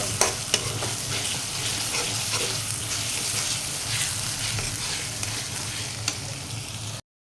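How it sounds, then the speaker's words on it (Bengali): Spice masala fries and is stirred in a pan, giving a loud, dense, continuous sizzle with occasional spoon scrapes, close and steady until it cuts off abruptly. No speech is heard. "এখন মশলাটা কিন্তু কষানো হয়ে আসছে"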